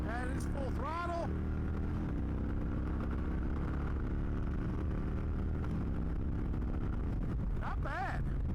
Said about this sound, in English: Getting on the highway, we'll give it the beans, the old beans, and see how it does. That is full throttle.